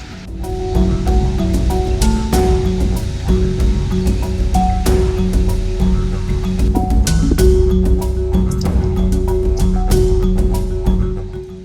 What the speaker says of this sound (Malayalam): വെള്ളം വീഴുന്ന, വെള്ളം ഇവിടെ ഒഴുകി പോകുന്ന ശബ്ദം, മഴ പെയ്യുന്ന ശബ്ദം, ചീവീടുകളുടെ ശബ്ദം,